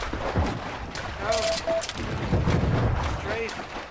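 Bursts of gunfire in the WWII shooter Heroes and Generals, loud, overlapping shots scattered through the clip, with people talking over the shooting.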